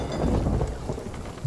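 Rain and thunder at sea in the Sea of Thieves game, a steady dense wash of rainfall with low rumbling thunder throughout, no voices.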